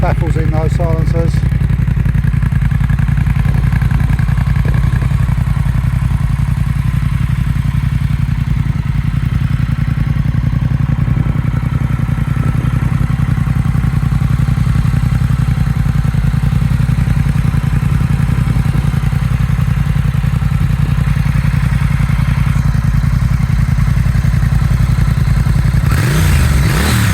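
A 2021 Triumph Bonneville 1200 Speed Twin with louder aftermarket exhausts runs close by, a loud, steady engine rumble with rough exhaust texture that holds throughout, a brief rise near the end.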